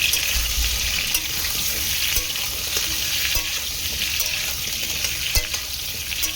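Potatoes fry in a little oil in a pan, giving a continuous close sizzle with scraping stirs and small clicks, and no voices.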